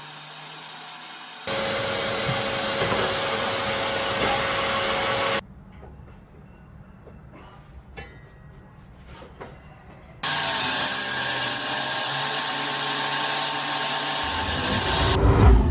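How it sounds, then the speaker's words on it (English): A loud table saw cutting wood at a 45-degree angle runs in two long bursts with a steady whining roar, separated by a quieter stretch of shuffling, clunking handling noises. "here I am cutting 45 degrees for it on my table saw"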